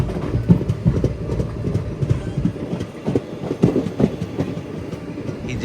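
Narsapur Express 17256 running from Lingampally toward Narsapur, its wheels rattling steadily over the rails with repeated clickety-clack beats and a constant low rumble from the carriages, heard up close and loud.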